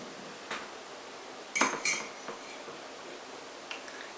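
A fork taps and scrapes against a plate while rice from a Home Chef meal kit is scooped up, a few light, close clinks in a quiet room with no talk.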